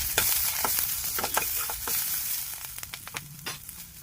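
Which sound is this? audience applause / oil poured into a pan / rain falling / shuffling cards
oil poured into a pan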